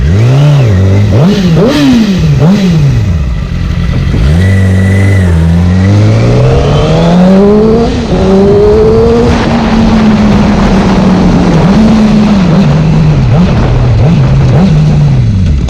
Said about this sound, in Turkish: Arkadaşlar vitesleri çok güzel bir şekilde atıyor.